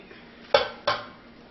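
Two sharp clinks of a utensil against a bowl while heavy whipping cream is mixed for crème brûlée, close and fairly loud, about a third of a second apart, over quiet background.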